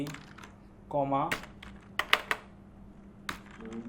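Computer keyboard typing C code in bursts of quick clicks and a few sharper key strikes, close and moderately loud, with someone speaking briefly between keystrokes.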